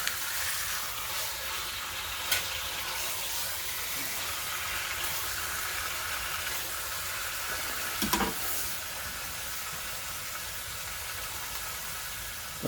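Lamb neck sears in a Dutch oven on an Outbacker stove, giving a steady, close sizzle throughout with a couple of brief knocks from the pot or utensil.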